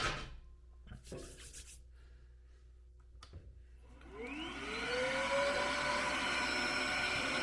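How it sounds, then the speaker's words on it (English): A vacuum cleaner sucks ash out of a Grand Teton pellet stove, starting with some quiet rubbing and knocks, then its motor rises in pitch to a loud, steady close-up whine. "now you just vacuum everything out in here as good as you can"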